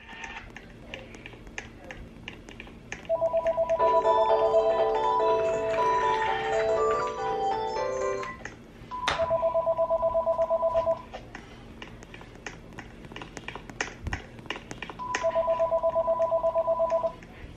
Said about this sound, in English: It seems like the phone always start ringing when I'm recording talking to you guys.